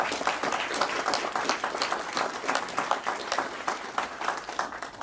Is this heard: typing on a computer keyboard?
no